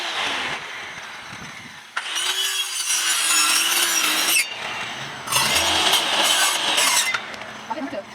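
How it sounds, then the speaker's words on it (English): A hand saw cuts through a piece of plywood for a doghouse in loud, steady back-and-forth strokes. The strokes come in long rasping runs with brief pauses between them, close and clear. "Once again, my dad will be helping me with the sawing."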